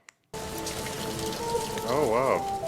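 Rain falls in a steady, dense patter from a Doctor Who episode, starting abruptly after a short silence, with sustained music tones and a voice over it.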